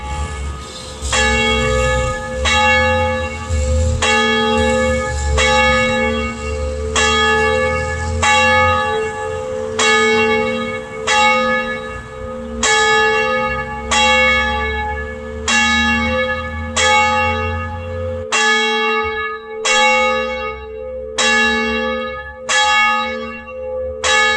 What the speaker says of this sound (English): We are going to have our official opening with our official bell ringing Emma.